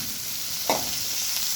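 Chopped ginger is tossed into a hot curry pan and stirred. A steady, bright sizzle carries one brief scraping stir partway through, and no voices are heard.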